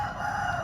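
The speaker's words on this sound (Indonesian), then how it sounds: "Itu ada ayam." A rooster crows in a short, steady burst, its call sustained and fairly loud against a faint low background, with no one speaking.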